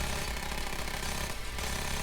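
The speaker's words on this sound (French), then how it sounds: "C'est trop bien minigun frère." A minigun fires in the video game Payday 2 during a heist, a loud, continuous rattling roar of rapid shots that runs for about two seconds with a brief dip partway through.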